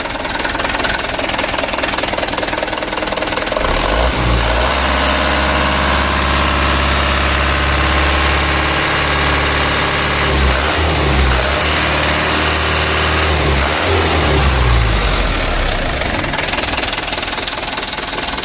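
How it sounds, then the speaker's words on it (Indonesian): A Mitsubishi Canter HDL truck's warmed-up diesel engine, puffing thick white exhaust smoke, is revved up from a knocking idle, its loud, close roar swelling and dropping back in repeated throttle blips. "coba kita gas dulu"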